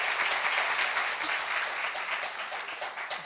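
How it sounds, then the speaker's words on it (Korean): Church congregation applauding during a Sunday worship service, a steady wash of clapping throughout at moderate level with no talk over it. "You like clapping."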